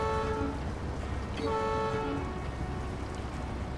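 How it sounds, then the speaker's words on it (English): A train horn in the video game SnowRunner sounds in two tonal blasts, a short one followed by a longer sustained one, over a steady rumbling background. "That's a train horn."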